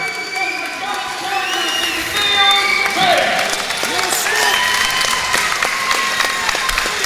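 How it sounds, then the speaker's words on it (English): A crowd at the ACB 5 heavyweight fight between Smith and Beech claps and cheers loudly after the result, with the hubbub sustained throughout and announcer-style talk and shouts carrying over it. "a round of applause to Neil Smith"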